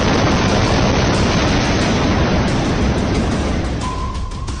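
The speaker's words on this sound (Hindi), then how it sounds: "एक कपल फोटोशूट करा रहा है और धमाका हो जाता है।" A loud blast goes off during a couple's outdoor photoshoot, a saturated roaring burst of noise that stays heavy and sustained throughout, with a faint tone near the end.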